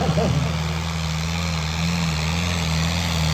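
A tractor engine runs at a tractor tavian (disc harrow) competition in Samana, Punjab, a loud, steady low rumble with a constant hum throughout, and a brief voice at the start.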